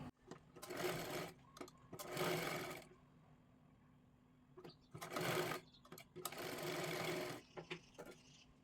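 A sewing machine stitches a blouse made from a saree border in four close bursts of fast, even whirring, each about a second long, with pauses and small clicks between them and no talk.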